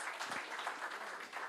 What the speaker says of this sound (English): please give him big applause.